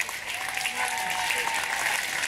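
Dense applause from a concert audience at an outdoor orchestra performance in a meadow at Gardens by the Bay, continuous clapping from many hands with faint crowd voices mixed in.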